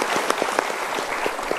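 A studio audience at a motivational talk show breaks into brief, dense applause, a continuous close wash of many hands clapping together with no one speaking over it.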